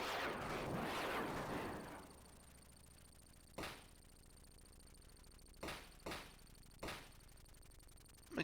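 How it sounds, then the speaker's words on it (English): Video game gunfire: a loud noisy burst at the start, then several sharp isolated shots spaced a second or two apart over a quiet steady hum, ending with one more crack. "who the hell's firing at me?"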